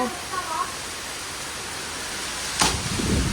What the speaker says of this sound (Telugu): వర్షం అయితే చాలా గట్టిగా పడుతుంది. Can hear it right?